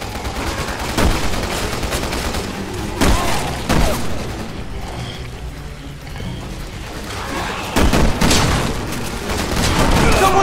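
Enemy gunfire in the video game Resident Evil 6: a steady crackle of shots with several louder distinct bangs spread across the scene, mostly free of talk.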